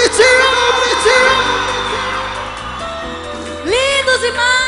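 Crowd at a winter music festival yelling and whooping on cue, loud voices and a rising shout that swell, fade, then surge again near the end.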